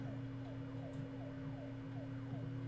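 An ambulance siren in the video game Troubleshooter wails in repeating up-and-down sweeps, faint and steady, over a low continuous hum.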